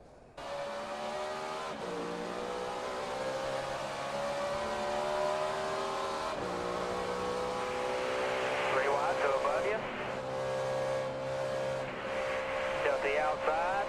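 Onboard a Chevrolet NASCAR stock car at the 2008 UAW-Dodge 400, the engine drones loud and steady with shifting harmonic tones, rising and falling as it circles the track, with a commentator's voice faintly over it.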